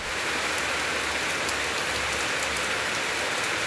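Rain falls in Karachi, a dense, loud, steady hiss of drops on surfaces that continues without pause and without voices.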